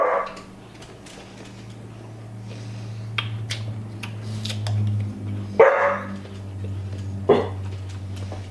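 A dog barks a few times at mid distance, with a couple of sharper barks standing out over a steady low hum in an indoor room; no one speaks.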